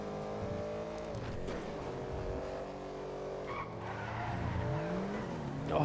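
A sports car in the GTA 5 game engine roars steadily as it turns, with tires skidding and engine pitch dipping then climbing again as speed is lost and regained, loud and close throughout.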